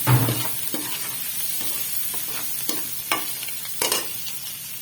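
Chicken pieces frying in a pan with onions for a spicy masala pasta, a steady sizzle with a few stirring scrapes and clatters, close and moderately loud with no talking.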